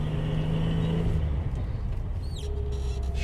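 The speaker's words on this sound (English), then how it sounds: "Engine sounds great." A 1974 Datsun 260Z engine pulls steadily under acceleration while driving, a continuous close rumble with rising tone and a brief chirp near the end.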